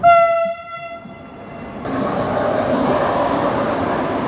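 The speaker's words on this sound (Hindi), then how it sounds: "इस जर्नी में दूसरी बार वंदे भारत एक्सप्रेस हमें ओवरटेक करके जा रही है" Vande Bharat Express overtaking on an Indian railway line toward Nizamuddin: a loud multi-tone horn blast, then a heavy, steady rolling rush as the train passes close by.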